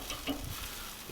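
Buffalo style sausage balls sizzling on a Weber kettle grill, a steady close hiss and crackle with no talking.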